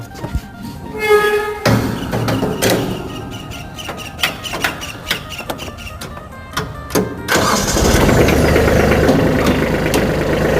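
A Kubota B2140S four-wheel-drive tractor's three-cylinder diesel engine cranks with knocking bursts, then catches and settles into a loud, steady rumbling idle nearby.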